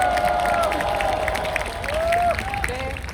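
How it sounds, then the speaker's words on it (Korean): Crowd noise with scattered clapping and some cheering from an audience at a Korean political rally, with a voice or tonal sounds woven through. "힘내라고 박수 부탁드립니다"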